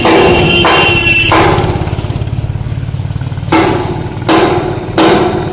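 A puffed rice (muri) making machine runs at a roadside works on the Purulia–Bankura road, with a steady low mechanical drone broken by several loud broadband bursts and thumps that repeat at irregular intervals.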